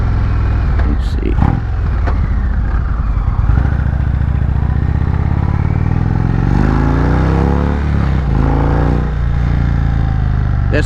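An Indian Roadmaster motorcycle with a slipping clutch roars under load, its engine pitch rising and dropping as it revs and shifts through gears, with wind rush throughout.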